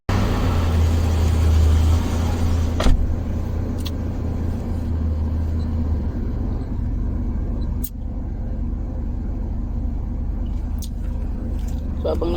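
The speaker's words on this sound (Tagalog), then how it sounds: "So ayun guys, magpapaandar naman tayo ng sasakyan." A car engine starts and settles into a steady, fairly loud idle to warm up, its low rumble continuing throughout while a person talks over it; the car's radiator had just been topped up with water.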